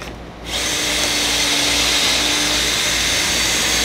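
A power drill boring a pocket hole through a Kreg 520 Pro jig that is not clamped down, starting after a brief pause and then a loud, steady whine that runs to the end.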